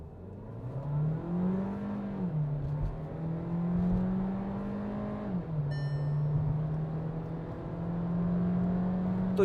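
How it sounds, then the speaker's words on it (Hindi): A Skoda Kushaq 1.5 TSI with the DSG gearbox accelerates hard from 0 to 100, its engine note climbing, dropping briefly at a gear change, then climbing again, steady and moderately loud with no talk. "क्या एक्सेलरेशन गाड़ी दे रही है, तो 0 to 100 कर लेते हैं।"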